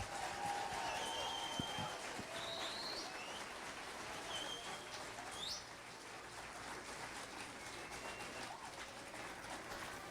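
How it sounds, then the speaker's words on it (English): Quiet applause for graduating students at an elementary school graduation patters in the distance while birds chirp and a dove coos nearby, the clapping fading toward the end. "let's give our graduates a huge round of applause"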